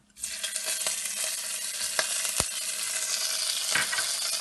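Cumin and cinnamon sizzle steadily in hot oil in a pan, a dense close frying hiss with a few soft scrapes and knocks as the spices are stirred, no voices.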